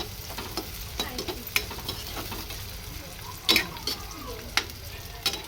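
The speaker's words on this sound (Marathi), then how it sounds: "आपण याच्यात टॅमॅटो टाकूया जसं तो परतून शिजून घेऊया" Onion and tomato fry in a pan for a homestyle chicken curry, a faint sizzle under scattered spatula scrapes and clinks against the pan, close and quiet.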